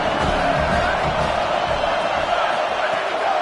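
Home crowd at a college football game cheering in a steady, dense roar that fills the stadium, with a commentator talking over it.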